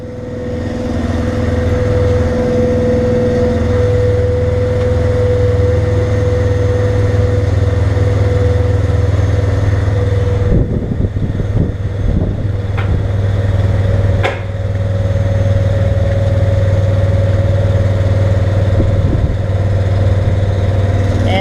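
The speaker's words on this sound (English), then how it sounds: "The 13 horsepower Honda is doing her job." A steady, loud engine drone from a 13 horsepower Honda engine running continuously at a constant speed near heavy haul trailer equipment, with a few brief metallic clanks partway through.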